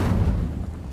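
An Incendio fire spell bursts out in the Hogwarts Legacy video game, a heavy, low, rumbling whoosh that holds steady for about a second with no voices.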